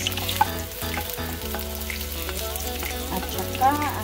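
Garlic and onion fry in hot oil in a pan while a mung bean dish is cooked. A steady close sizzle runs throughout, with occasional clinks and stirring noises.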